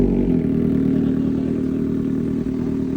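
Kawasaki Ninja ZX6R 2025 with a full titanium Arrow exhaust idling close by, a loud, even, raspy burble with a fast pulsing beat that holds steady throughout.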